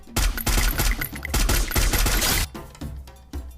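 An opponent fires in a shooting video game, with dense rapid bursts of loud automatic gunfire that run for about two and a half seconds and then thin out to a few scattered shots.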